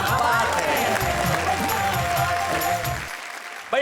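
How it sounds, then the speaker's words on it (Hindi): Studio audience at a Hindi comedy poetry show claps for the poets, a full round of applause with music-like tones over it that thins out near the end before a sharp return. "जरा तालियां बजाइए, ठहाके लगाइए उन कवियों के लिए"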